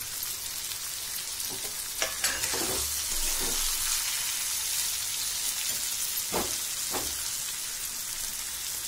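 Okra masala with coriander, cumin, coconut and curry leaves sizzling in a pan, a constant hiss broken by a few spatula scrapes as it is turned from the bottom, nearby.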